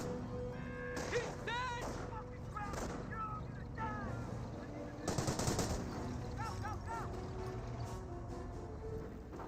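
A captured MG42 machine gun fires in Company of Heroes amid the low din of battle, with short rattling bursts, one louder cluster near the middle, and chirpy game sounds over the top.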